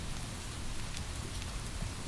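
Rain falls on the roof of a house by a tidal inlet, a soft, steady patter that stays faint and even throughout.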